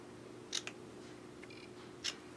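Scissors snip a small leftover piece of ribbon, cutting little angles: two quick crisp cuts close together, then a single snip a moment later, against a quiet room hum.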